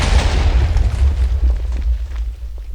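A huge Ork-style bomb detonates in Minecraft, a loud, deep rumbling boom that rolls on for several seconds before fading into crackling debris.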